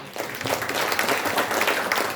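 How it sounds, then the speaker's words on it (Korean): An audience at a formal ceremony gives dense, steady applause, many hands clapping together at even strength from start to finish. "뜨거운 박수 부탁드립니다."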